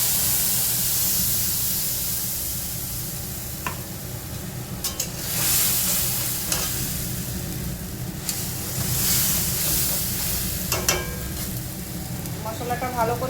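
Masala spices frying in oil for a dry fish curry, a steady sizzle and hiss with occasional stirring scrapes and brief sharper bursts, close and continuous throughout.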